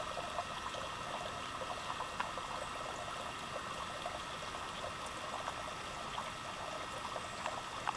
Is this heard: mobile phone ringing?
no